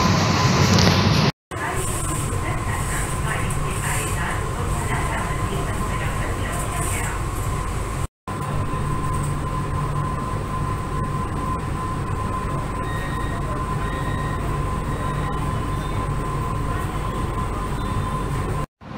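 Continuous rumble and rattle of a Mumbai AC local commuter train with modern AC coaches, a steady loud interior drone with faint voices beneath and a couple of brief cuts.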